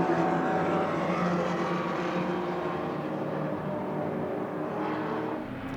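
An American race car and a Ferrari climb the hill side by side at the Goodwood hillclimb, a steady loud engine roar blended with crowd noise that holds throughout and thins slightly toward the end.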